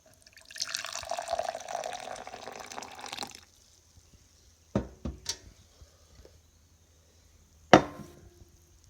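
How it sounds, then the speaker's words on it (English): Campfire cowboy coffee poured into a glass: a steady liquid trickle for about three seconds, then a few short clinks and taps, and a sharp knock near the end. "I'm going to pour this up a little bit in this glass right here"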